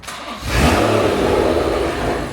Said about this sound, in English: it is actually the first dyno run we're actually starting right now